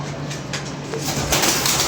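Pigeons coo close by, soft low murmuring calls over a dense, noisy background throughout the short moment, with no talk.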